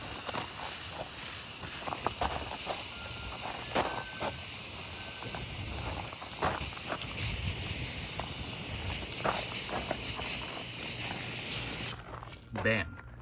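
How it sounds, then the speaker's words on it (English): Rust-Oleum spray paint hisses from an aerosol can in a steady, continuous spray for about twelve seconds, with small bursts and changes in intensity, before cutting off near the end. "we're gonna take our Rust-Oleum and just spray that hoe"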